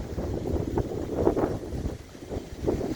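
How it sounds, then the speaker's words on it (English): Steady wind rushes and buffets across the microphone during an off-road trail ride on an isinwheel S9 Max electric scooter, a continuous low roar with gusty swells and a brief lull. "it's windy"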